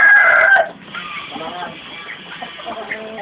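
A loud rooster crow starts and cuts off after half a second, followed by softer clucking and general barnyard chatter.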